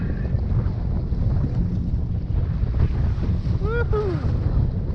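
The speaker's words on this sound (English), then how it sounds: "It's pretty windy." Strong wind on the water during jet ski fishing roars and buffets against the microphone continuously, with a brief whistling tone rising and falling near the end.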